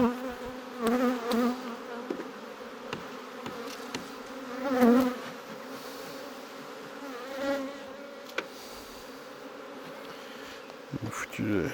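Honeybees buzzing around open hive number 38, a steady mid-level hum with drifting individual buzzes passing close, no talk.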